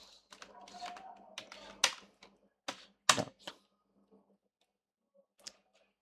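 Typing on a computer keyboard while coding an HTML and CSS project, scattered clicky keystrokes in short bursts with a few sharper taps, close but faint, then mostly quiet with sparse keypresses.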